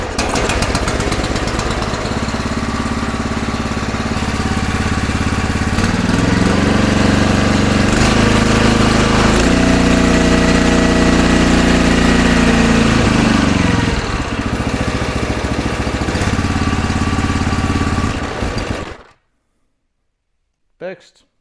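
Husqvarna log splitter engine with a freshly rebuilt Nikki carburetor, running loud and steady up close for about nineteen seconds, its pitch shifting partway through, before it cuts off abruptly into near silence.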